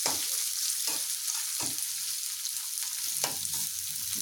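Onions fry in a pan for an egg roll filling, a constant bright sizzle close by, broken by regular stirring scrapes roughly every half second.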